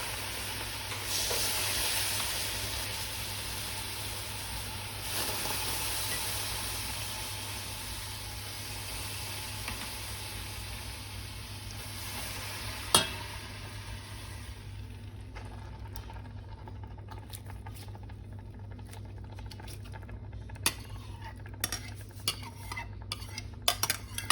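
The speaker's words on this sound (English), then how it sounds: "we've preheated the pot on high heat, and she's adding the yogurt" Yogurt going into a pot preheated on high heat and being stirred, with a steady sizzling hiss for the first half, then quieter scraping and light clinks of a utensil against the pot.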